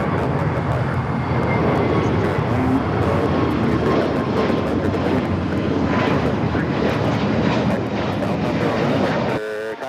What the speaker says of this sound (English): that was Spirit Flight heading to San Antonio, Texas, Flight 1273 at A321 Neo.